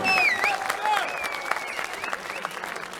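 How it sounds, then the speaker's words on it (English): An arena crowd at a CS:GO esports LAN final in Belgrade applauds steadily, with scattered whistles over the clapping and a voice briefly audible beneath the noise. "Let me hear a big round of applause for the 2 teams"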